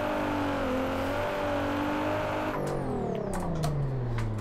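Sustained high-revving engine of a Z car drifting in fourth gear in a racing video game, steady harmonic whine that drops and sweeps in pitch near the end with tire-squeal bursts, loud and continuous with no talk.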